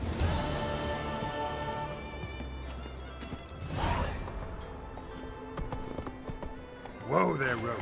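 Roach the horse gallops in The Witcher 3, hooves clip-clopping in a steady rhythm over a musical backdrop, with a swoosh and a short whinny-like burst rising near the end.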